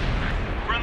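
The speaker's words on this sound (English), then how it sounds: "Spotted, we're hit by artillery." Artillery fire hits a tank in the World of Tanks video game, a loud, booming, crackling blast that fills the whole brief moment close up.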